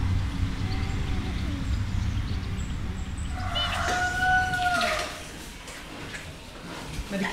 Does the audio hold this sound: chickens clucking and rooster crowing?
yes